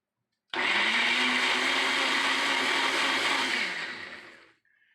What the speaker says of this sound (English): I normally put it in a blender, and I like just puree them a little bit